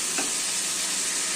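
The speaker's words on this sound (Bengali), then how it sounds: "ভালো করে নাড়তে হবে, আস্তে আস্তে ভালো করে নাড়তে হবে।" Turmeric- and salt-coated ash gourd pieces frying in a pan, stirred steadily, giving a constant close sizzle and hiss with a light scrape of the stirring early on.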